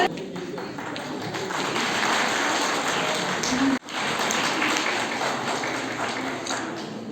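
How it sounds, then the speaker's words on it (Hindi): Loud, sustained applause from a crowd at a district International Women's Day event, a dense wash of clapping with a momentary drop near the middle before it resumes. "जोरदार तालियां तालियां।"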